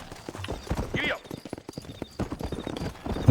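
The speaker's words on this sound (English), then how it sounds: "Giddy up." Horse galloping in the Red Dead Redemption video game: rapid rhythmic hoofbeats with a brief whinny near the start, over a busy game soundscape.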